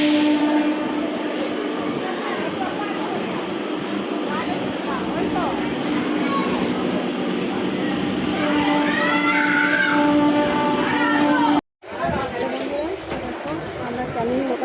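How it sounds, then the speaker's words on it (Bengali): A Canning local commuter train runs out of Sealdah toward Garia in a continuous loud rumble and clatter, with passengers' voices mixed in and a brief dropout near the end. "আমরা ক্যানিং লোকাল ট্রেনটা ধরেছি, এটা থেকে গড়িয়া যাবো।"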